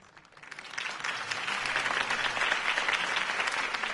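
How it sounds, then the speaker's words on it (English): A crowd in the video game Batman: The Telltale Series claps steadily, swelling in from a quieter start into sustained, dense applause that stays loud to the end. "could have heard that applause"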